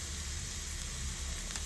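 Chopped vegetables for a sweet corn soup sautéing in a pan with salt, a constant, even sizzle and hiss held close and steady throughout, with no other sounds.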